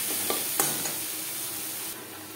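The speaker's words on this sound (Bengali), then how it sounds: "মশলার সাথে গুঁড়ো মশলা বেশ ভালো করে মিক্স করে দেব" Powdered spices get stirred into vegetables in a hot pan, with a steady frying sizzle and a few soft scrapes and knocks of the spoon against the pan.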